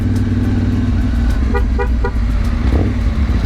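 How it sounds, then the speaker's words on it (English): Lorries rumble past on a mountain road in Sulawesi, Indonesia, loud and close, with a few short horn toots in a quick burst partway through over the steady engine roar. "Except for all these lorries."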